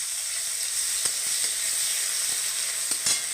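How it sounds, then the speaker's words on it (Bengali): Tomatoes frying whole in a pan for a Bengali vegetable dal, a steady soft sizzle with a few light clicks of stirring, close and alone with no voices. "টমেটোটা একটু ভাজা হোক।"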